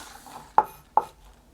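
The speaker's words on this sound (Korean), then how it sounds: "쪽파가 너무 굵으면 이렇게 절반 잘라서" Two crisp knife chops through thick scallions on a cutting board, a sharp pair of cuts about half a second apart, close and alone in a quiet kitchen.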